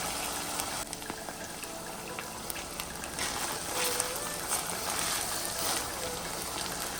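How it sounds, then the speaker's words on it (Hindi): Beef mince frying in a pan, a steady broadband sizzle and bubbling hiss with faint intermittent clinks, continuous throughout at moderate level. "मैं कीमा भून रही हूँ।"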